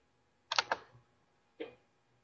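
Two short bursts of clicking, a quick cluster of several clicks and then a single pair about a second later, sounding like a computer mouse being clicked close by in an otherwise quiet room.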